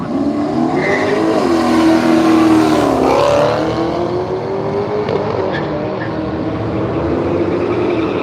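Drag racing car with a big compound turbo setup at Willowbank Raceway in Australia, a loud sustained engine roar with rising and falling pitch as it accelerates, heard continuously and strongly throughout.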